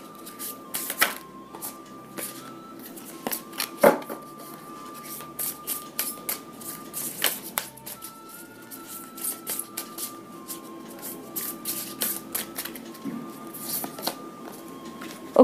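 Tarot cards being shuffled repeatedly, giving a steady run of crisp riffling and slapping clicks at close range with brief louder snaps, a soft tonal hum underneath and no talking.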